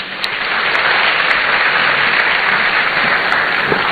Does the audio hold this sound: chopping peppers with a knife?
no